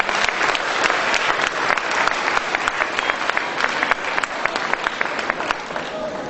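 A big round of applause for students at a school's annual appreciation day, dense and loud clapping from a crowd that holds steady for the whole stretch.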